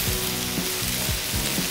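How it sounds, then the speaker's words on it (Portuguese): Chicken fries on a large disc pan, a steady loud sizzle filling the scene with faint scraping of stirring, no voices. "O frango fica aí fritando."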